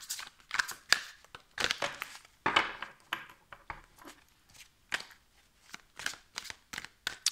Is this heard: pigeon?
no